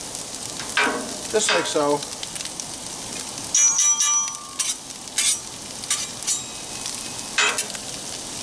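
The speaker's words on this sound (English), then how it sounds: "try to lay them flat so every piece of onion has an opportunity to touch that hot grill and kind of soften up a little bit" Onions sizzle steadily on a hot Blackstone griddle, with spatula scrapes and metallic clinks on top and a brief spoken remark near the start.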